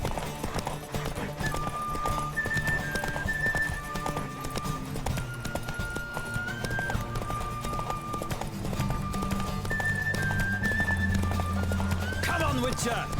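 Rhythmic clip-clop of galloping hooves from The Witcher 3: Wild Hunt runs steadily throughout, mixed with music and occasional voices, with a horse whinny near the end.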